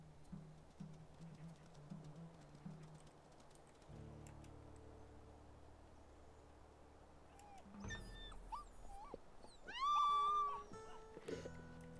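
Wolf pups whimper and yip in the video game Wolf Quest, the high, wavering cries bunched near the end over a quiet, steady in-game background, with no speech.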